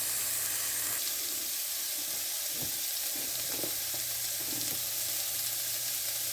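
Leftover rice roasts in a pan with a continuous close sizzle, broken by a few soft scraping stirs, steady and moderately loud with no talking.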